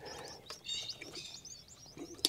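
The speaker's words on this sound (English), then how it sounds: "So I know we had 7 Reeves pheasants this week hatch." Reeves pheasant chicks in a brooder give faint, high, thin chirps in scattered short bursts, close by and with no talking.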